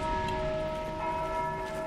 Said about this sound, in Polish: Ciągle ktoś bije w dzwon.